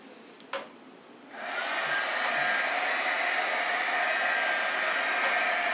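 Hair dryer blowing on wet paint on a farmhouse paint project, switched on after a brief click and then running as a steady, close whoosh.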